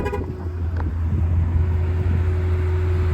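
A Chevrolet Camaro convertible with a manual transmission idles with its top down, giving a steady low engine rumble close by with no talking.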